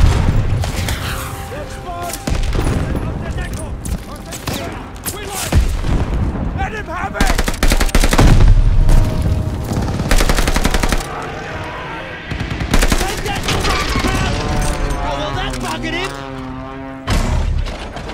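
Heavy automatic gunfire and booming explosions in a Call of Duty: Vanguard campaign battle, dense and loud throughout, with shouted voices over the fighting.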